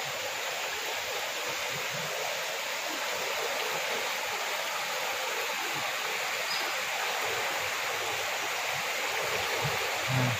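A fast-flowing river current at a fishing spot rushes continuously, a steady broadband roar of churning water with no pauses and no talk.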